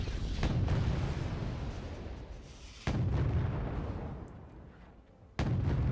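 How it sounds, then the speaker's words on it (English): Buratino rocket launcher firing in the Wargame Red Dragon game, three heavy booming bursts, each a sudden loud onset fading into a long rumbling roll of repeated impacts. "I think he unloaded the entire Buratino in that shot."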